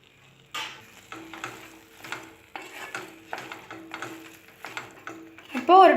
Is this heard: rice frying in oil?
yes